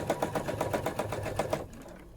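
A sewing machine quilts a filling stitch on an applique, its needle tapping in a quick, regular rhythm up close before cutting off into near silence.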